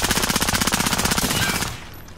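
Rapid automatic gunfire in a Modern Warfare Search and Destroy match, a dense burst of fast repeated shots that runs loud for about a second and a half, then cuts off into quiet.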